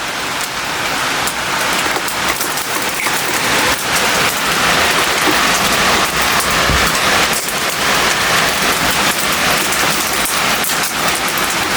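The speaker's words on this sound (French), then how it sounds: "En fait ils se brisent là en tapant la fenêtre mais ils sont énormes." Huge hailstones about 5 cm across hammer a window during a violent late-summer thunderstorm in Bordeaux, a dense, continuous loud pelting with sharp individual impacts throughout and no talking.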